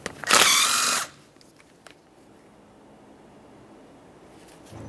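An impact power tool whirs loudly for about a second while spinning off a 13mm axle nut on a 2004–2008 Ford F-150 steering knuckle, then faint clicks and quiet shop ambience follow.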